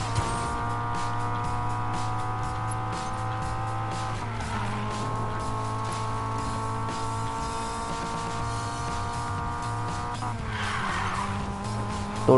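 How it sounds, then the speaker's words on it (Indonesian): A car drifts in a racing video game, tires squealing in long sustained skids over a steady droning engine, with two shifts in pitch as the slide changes and no talking. "masa ngedrift aja keluar track gitu loh"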